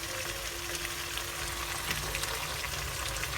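Carrots and mixed vegetables stir-frying in hot oil, a continuous close sizzle with light stirring scrapes throughout.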